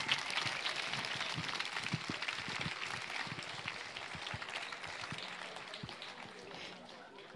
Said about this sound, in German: Ein Applaus nochmal für den Poeten, nicht für die Wertung